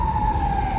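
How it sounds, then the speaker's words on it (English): A siren wails steadily in the background over low traffic rumble on a street in On Nut, Bangkok, holding a single sustained tone. "Sorry about that siren."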